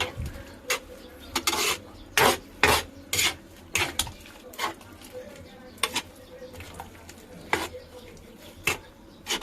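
A spoon scrapes and rasps against a pot while stirring chicken with banana heart in a mung bean stew, in short rhythmic bursts with pauses, close and fairly loud.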